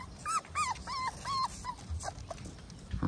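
Puppies whimpering and yipping in a quick series of high, rising cries, fairly close and clear, with a low thump at the very end.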